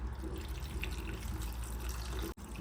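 Steady splashing of a litre of cold water pouring into a container with bay leaves, a continuous broadband rush that holds evenly before cutting off abruptly near the end.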